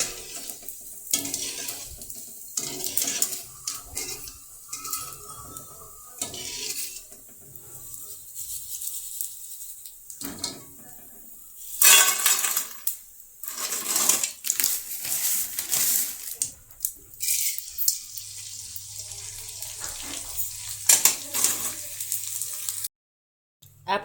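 Edible gum (gond) frying in hot ghee while being stirred with a slotted spoon, giving a steady crackling sizzle broken by scraping and clinking against the pan, fairly close.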